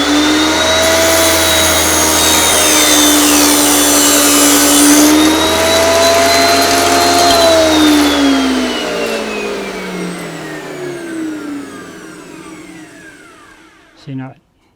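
A table saw rips a narrow wood strip on a flip-method jig, a loud steady whining roar that rises in pitch, holds, then winds down and fades, ending with a short knock near the end.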